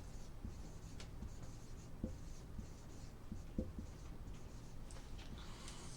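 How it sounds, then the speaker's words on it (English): Faint, soft scratching of a stylus writing on a screen while working a math problem, with light irregular strokes and taps under a steady hum. "let me write this"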